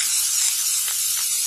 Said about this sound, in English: this stuff sprays out white